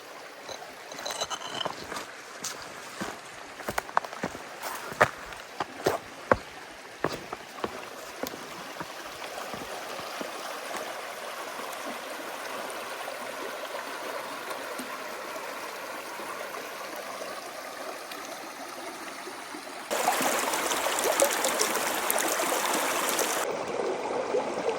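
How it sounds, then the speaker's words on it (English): A creek flows steadily along a hiking trail near Brushy Creek Recreation Area on the Ouachita Trail, with a constant watery rush, scattered sharp footstep-like taps early on, and a louder burst of rushing water near the end. "All along the creek."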